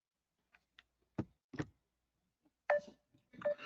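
Phone keypad dialing: a few soft, sparse key clicks, then two short bursts of tones, close and fairly clear with no talk.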